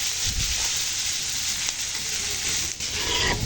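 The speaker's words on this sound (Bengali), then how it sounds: "এই যে পেঁয়াজগুলো ভালো করে ভাজা ভাজা করে নিতেছে" New onions fry in a pan with a continuous close sizzle and crackle, broken by a few soft scraping stirs.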